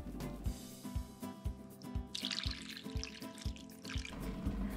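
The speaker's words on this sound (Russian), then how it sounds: "Затем воду сливаем и миндаль промываем." Water is poured off soaked almonds and the nuts are rinsed, making soft sloshing, dripping and trickling sounds with a run of rhythmic low thumps, all faint and close.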